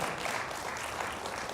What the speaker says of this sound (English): Maybe we give a clever round of applause.